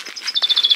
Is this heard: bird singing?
yes